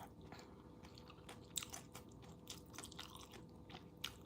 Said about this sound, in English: You can still hear the crunch in the cabbage.